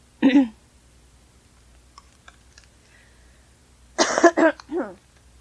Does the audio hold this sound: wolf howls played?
no